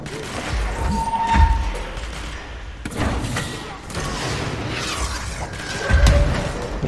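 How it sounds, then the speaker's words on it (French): Sniper rifle fire in the video game Control, heard as a few heavy, booming shots with some thuds and clatter, while someone talks over the gameplay. "Il y en a un, il me mitraille, mais il n'y a pas d'autre mot, au fusil sniper."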